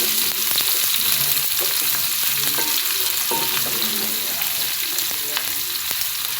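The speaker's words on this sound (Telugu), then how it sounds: "మంచి రంగు వచ్చే వరకు ఫ్రై చేయాలి ఈ ఉల్లిపాయలను" Plenty of chopped onion frying in oil for an Andhra-style fish curry, a loud, steady sizzle close by with frequent crackles and spatula stirring clinks, no voices.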